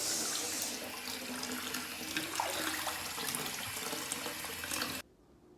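Bath water with Radox bath salts runs and splashes into a tub in a steady rushing stream, close and full, then stops abruptly near the end, leaving faint room tone.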